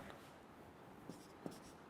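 A pen scratches quietly while numbers are written by hand during a math lecture, with a few soft taps in a near-silent room and no speech.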